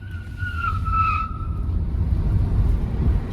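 A 2023 Renault Zoe E-Tech Intense electric car accelerating hard out of eco mode: a brief high tire squeal rises and fades over a steady, loud low road-and-motion rumble that persists throughout.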